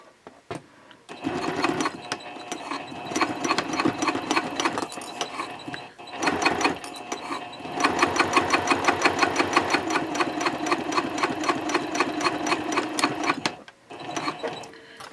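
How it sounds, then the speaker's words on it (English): A sewing machine top stitches Cordura fabric wallet card slots at a 3.0 stitch length, running in long steady bursts of rapid close mechanical clatter with brief pauses between runs. "I'm top stitching 1/4 of an inch away from the folded edges"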